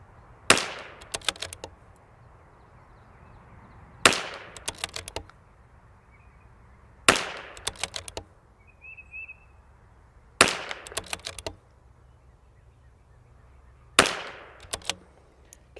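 Five separate strings of .22 LR rifle shots with ELEY Match ammunition at a lot test, each a sharp loud crack followed by a rapid cluster of further shots, spaced a few seconds apart, with no voices.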